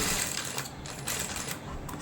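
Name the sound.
sewing machine stitching a layered dress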